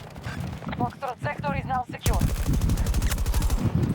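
Rapid bursts of automatic gunfire ring out as bots are shot in the video game Battlefield 2042. A voice talks briefly first, then a dense, loud stream of shots takes over.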